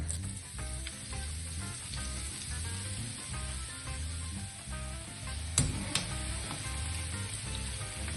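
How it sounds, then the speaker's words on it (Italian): Aubergine pieces fry in a pan of plenty of oil, giving a steady, close sizzle and crackle with a continuous hiss and occasional brief pops, no voices heard. "In una padella con olio abbondante friggiamo le melanzane."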